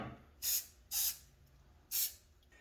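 Three short, sharp hisses from an aerosol lubricant can sprayed on garage door bearings, evenly spaced with brief pauses between them, close and crisp against a quiet background.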